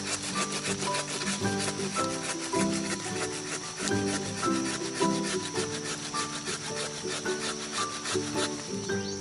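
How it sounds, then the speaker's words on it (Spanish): A hand saw cuts through a thick branch of a mature lemon tree, a steady close rasping of repeated strokes running unbroken with no talk. "Vamos a tomar el serrucho y con él vamos a cortar esta rama gruesa."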